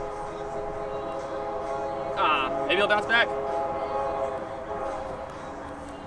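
A train horn sounds fairly loudly in a few short blasts near a mini golf course, rising over steady background noise while people talk.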